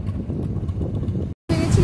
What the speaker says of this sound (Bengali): প্রচন্ড হাওয়া, দারুণ লাগছে, ঠান্ডা হাওয়া